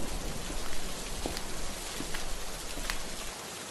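Heavy, steady rain pours down at night in a dense hiss with scattered louder drops, continuous throughout and with no voices.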